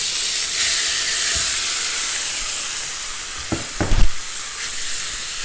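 Beef hitting a hot wok slicked with canola oil for shaking beef gives a steady, loud hiss and sizzle, broken near the end by a few short metallic clanks and scrapes.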